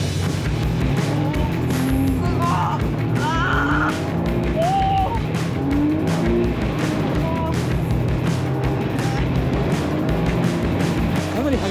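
A car whips through tight, high-speed turns at constant distance, tires squealing in repeated sharp chirps over a loud, continuous engine roar, with people talking in the background.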